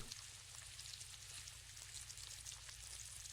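Food frying in the Roblox horror game It Lurks gives a steady, dense sizzle and crackle that runs evenly through the whole moment, with a low hum underneath and no voices.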